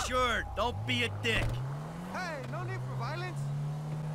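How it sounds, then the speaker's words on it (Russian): A car engine drones steadily while driving through a modded city in GTA 5, low and continuous beneath someone talking in Russian, with brief bursts of other game sound at the start. "Давайте сразу же возьмем какой-нибудь автомобиль и поедем туда же"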